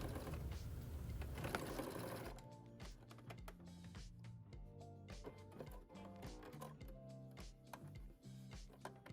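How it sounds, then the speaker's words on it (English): Sewing machine running a second row of top stitching along the front facing of a denim jacket, a quiet rapid mechanical chatter in short bursts with brief pauses, heard alone. "Now I did a second row of top stitching for the front facing for a little bit more detail"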